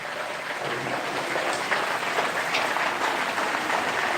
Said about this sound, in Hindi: बहुत तेज़ बारिश हो रही है गाँव में।